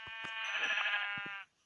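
A single long, nasal sheep bleat from the Minecraft video game rings out clearly and alone, with a few soft clicks before and after it.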